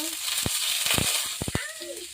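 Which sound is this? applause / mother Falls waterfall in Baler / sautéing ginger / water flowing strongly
sautéing ginger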